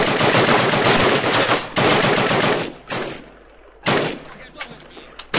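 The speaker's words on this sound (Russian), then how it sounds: "Это эксперимент, стрельба по всем." Machine gun fire in Call of Duty comes as loud, sustained automatic bursts that cut off abruptly. Shorter rattling bursts follow after gaps, with no talking.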